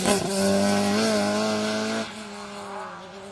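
A rally car on a special stage of Rally Wervik 2022 brakes hard into a square right-hander, the tail stepping out; a loud, close engine drone holds steady, then drops in pitch and volume as it slows.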